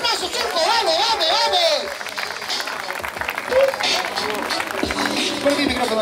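A crowd at a rap battle in Lima claps and cheers, a dense roar of applause and shouting with a voice calling out over it.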